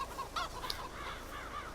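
Young two-month-old chickens and a cockerel on an old farm make faint, soft clucks and chirps that repeat irregularly in the background, quiet and somewhat distant.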